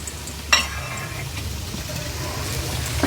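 Ragi flour roasting in a hot pan for laddu, a soft continuous scratchy rustle of stirring with a brief sharper scrape near the start, steady and close, no voices.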